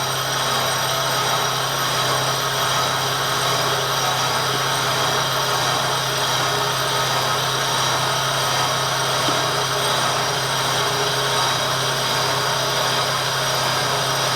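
A 1/4 inch end mill cutting on a shop-made die filer part in a milling machine, a steady loud grinding whine with constant motor hum, continuous and close, no talking.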